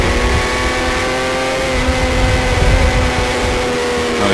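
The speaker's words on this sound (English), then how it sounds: "So up the hill they come now. Two Moto 3 bikes leading them around." Moto3 road-racing motorcycles climb a hill in a 250/300 production race at Southern Downs, their engines a loud, continuous, high-revving drone with layered harmonic whine and no pauses.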